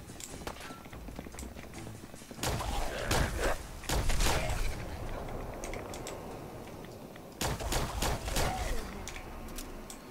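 A companion named Piper firing a gun in Fallout, sharp separate shots in two clusters separated by a quieter gap, mixed with other game noise.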